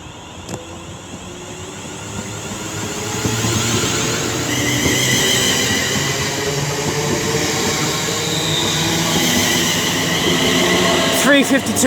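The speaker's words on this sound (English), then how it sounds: "35123 is now getting ready to lead away the 12:29 London Northwestern Railway service to London Euston" London Northwestern Railway unit 35123 pulls away from Birmingham International on the West Coast Main Line, its traction hum and rumble building steadily and staying loud and close, with voices talking over it.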